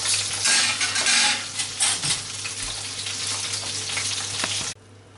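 Sausages frying in hot fat in a pan for mini toad in the holes, a dense continuous sizzle with crackling spits and occasional scrapes of a utensil, loud and close, cutting off abruptly near the end.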